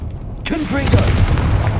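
Confringo spell blast in the Hogwarts Legacy video game on Xbox Series X, a sudden loud booming burst that lands after a brief quiet moment and then rumbles on, with a voice calling out over it.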